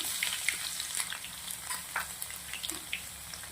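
Mustard seeds, cumin and crushed garlic sizzling in hot oil for a yogurt-and-taro curry: a dense, continuous crackle and hiss with small scattered pops, close up and steady.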